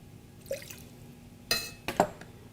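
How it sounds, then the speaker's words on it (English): Water is poured into a pressure cooker for steaming, heard as a few short splashes and drips with small metallic and glassy clinks in between, close and moderately loud, without talk. "So I'll add little bit of water, like normal pressure cooker method."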